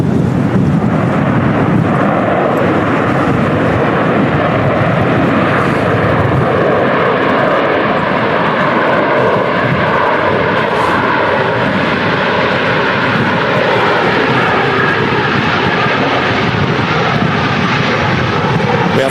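A Ryanair airliner lands at Manchester Airport in strong storm crosswinds, a loud, continuous roar of jet engines blended with rushing wind, steady throughout and without talk.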